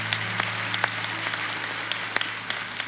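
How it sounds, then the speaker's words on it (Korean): Congregation applause in a church after a prayer, a steady wash of clapping with a few sharper individual claps standing out over a low hum. "잘 다녀오시도록 사랑과 격려의 박수를 하겠습니다."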